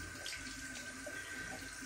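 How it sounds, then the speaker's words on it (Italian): Hot water running from a bathroom sink tap, a steady, low rushing stream heard alone and fairly faint. "facciamo scorrere un po' l'acqua. Che venga calda"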